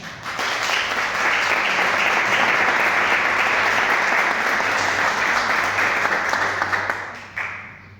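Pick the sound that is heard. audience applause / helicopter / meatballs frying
audience applause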